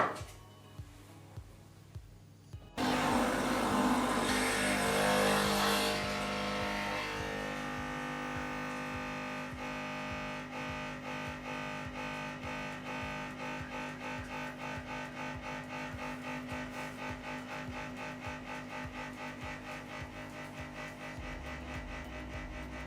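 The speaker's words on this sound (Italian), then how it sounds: "questo sicuramente non è uno dei miei rumori preferiti, è veramente un trattorino in questa erogazione" A Nespresso Inissia capsule coffee machine starts with a sudden burst of noise, then settles into a steady, rapid mechanical pumping drone while brewing, close and continuous for about twenty seconds.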